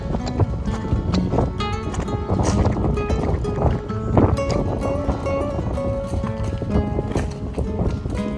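Horses clip-clop steadily along a trail in Samaria Gorge, Crete, hooves knocking in an uneven walking rhythm, with wind buffeting the microphone.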